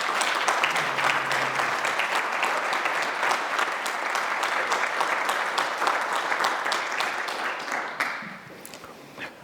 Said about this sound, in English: And I think the parents deserve a round of applause for the great job they've done.